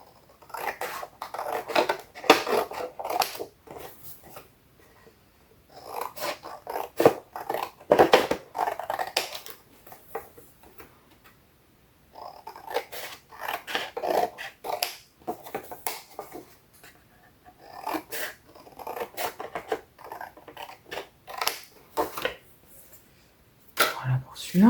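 Scissors snip through paper to trim the corners of a mini album folio cover, a series of close, crisp cutting bursts in clusters separated by brief pauses, with light rustling of paper between them.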